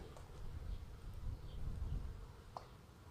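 Honey bees buzz densely around an opened swarm trap hive, a steady close drone with no talking.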